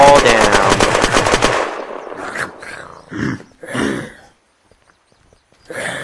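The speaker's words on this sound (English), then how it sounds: "gun's very loud. Like the loudest gun I think it was." Loud machine gun in the video game Unturned fires a rapid sustained burst, then falls into short separate bursts and pauses, close and harsh.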